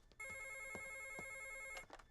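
A telephone bell rings in a steady, continuous trill for about one and a half seconds, moderately faint indoors, with a few soft knocks and background noise around it.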